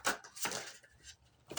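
Tarot cards are shuffled in a few quick riffling bursts, close and crisp, separated by short quiet gaps.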